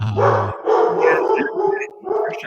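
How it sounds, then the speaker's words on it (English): A pet dog gives several close, yappy barks and whines in a quick irregular burst, with a person's voice mixed in underneath. "Sorry, that's my dog."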